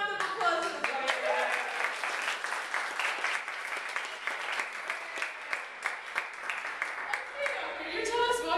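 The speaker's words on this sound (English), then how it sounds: "Round of applause for the doctor." A classroom of students gives a round of applause for a visiting doctor, fairly quiet, steady scattered clapping with individual claps standing out, tapering off near the end as talk resumes.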